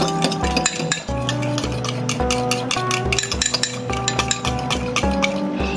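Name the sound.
mixing pasta salad in a bowl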